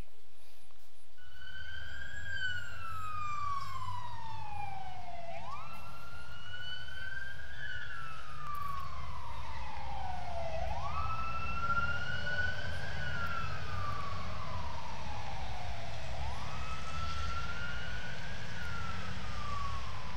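A wailing siren sweeps up and down in repeating cycles over steady road rumble, loud and continuous as the vehicle passes nearby.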